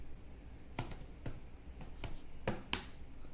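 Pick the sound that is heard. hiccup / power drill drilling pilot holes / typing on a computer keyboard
typing on a computer keyboard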